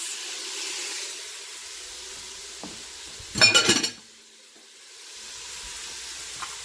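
Onions and carrots sauté in a pan for sausage lentil soup, giving a steady soft sizzle with a louder burst of frying hiss midway as the carrots go in.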